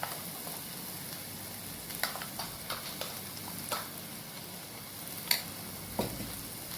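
Ground paste and coriander frying in a pan for a vegetable curry, a steady low sizzle with scattered clicks and taps of stirring.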